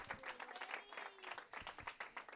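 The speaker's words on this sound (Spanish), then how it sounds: "Dale un aplauso a Eduardo aquí, al panadero" A brief burst of applause for a baker at a church event, many hands clapping quickly and unevenly, moderately quiet.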